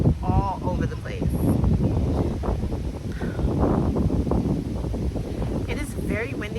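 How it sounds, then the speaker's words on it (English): Strong wind buffets the microphone in a New York City park jutting into a river like a peninsula, a constant low roar and rumble beneath a person talking throughout. "It is very windy on this side of the park because of it's like extended out into the river, like a peninsula."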